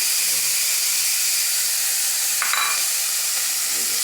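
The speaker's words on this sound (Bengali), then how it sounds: "একসাথে দিয়ে নাড়াচাড়া দিয়ে দিচ্ছি সবটা" Onion, garlic and green chillies being stirred into fried chanda fish in a hot pan, a steady loud sizzle and hiss running throughout with a brief scrape of the spoon partway through.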